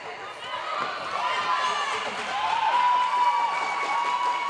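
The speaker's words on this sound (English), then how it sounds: "the crowd is progressively getting louder" Roller derby crowd at an Albany All Stars versus Royal Windsor Rollergirls bout, cheering and whooping from a distance, the noise swelling steadily louder, with voices mixed in.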